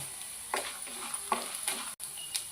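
Mustard seeds, cumin, urad dal and chana dal tempering sizzling in hot oil in a pan for semiya upma, a steady soft fizz broken by a few louder crackles and stirring scrapes.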